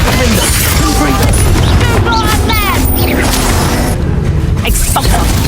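Repeated magical blasting explosions from the Confringo spell in Hogwarts Legacy, a dense run of booms, crashes and whooshes layered over game music and a voice casting spells.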